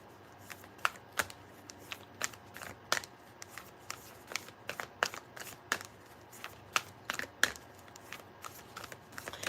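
A steady series of crisp, papery slaps and flicks as cards are shuffled, irregular but continuous, close by and without any voices.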